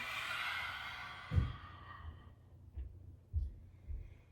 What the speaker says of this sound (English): Exhale, stick out the tongue.